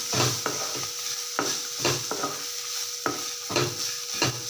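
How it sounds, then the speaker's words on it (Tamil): Coconut and ridge gourd peel being sautéed in a pan, with soft sizzling and a series of sharp spoon-against-pan scrapes and clinks every second or so as the mixture is stirred, close and with no talking. "தேங்காவையும் போட்டுக்கிறேன் நல்லா இதையும் இதிலே வதக்கி விட்டுடலாம்"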